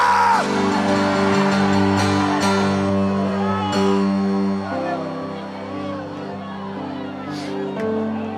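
A church congregation shouts and cheers loudly and continuously, a dense wall of raised voices over sustained music, with no pauses.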